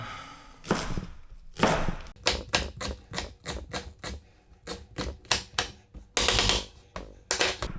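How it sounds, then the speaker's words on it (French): A knife finely slicing leek on a cutting board, producing a steady run of sharp, close chops in quick rhythm with a few brief pauses, no talk. "Je le coupe le plus fin possible."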